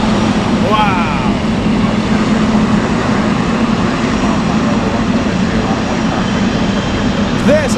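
A loud, constant engine and propeller drone fills the air at Anchorage airport, where a DC-3 propeller airplane is awaited, with a voice speaking over the rumble.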